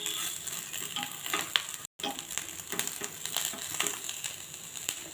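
Cleaned dry nethili fish frying in a pan for chutney gives a close, steady sizzle with crackles and light stirring clicks, briefly dropping out once, with no voices.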